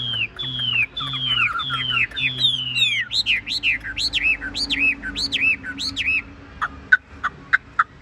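A caged Tam hoàng songbird sings up close: a run of repeated bright, swooping whistles, then a few sharp, separate chips at the end, clear and loud over a faint hum in the background.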